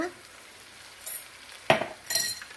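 Salmon marinade ingredients are stirred in a pan over medium heat, with a soft sizzle underneath and a few scraping clinks from the utensil against the pan.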